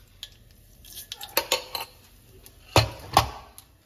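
Mustard seeds tempering in hot oil in a pan for rajma sundal, heard as scattered sharp pops and metallic clinks up close, with a few quick bursts and no talking.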